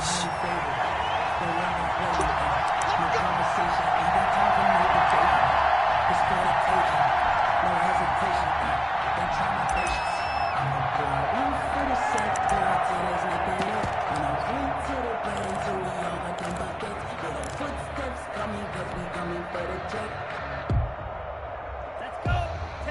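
A stadium crowd in a PS4 American football video game, Carolina Panthers against Green Bay Packers, keeps up a steady roar for the whole stretch, easing slightly toward the end, with a commentator's voice running over it.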